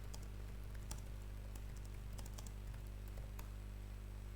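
Quick, irregular clicks of typing on a computer keyboard come through faintly over a low steady hum, with no voice.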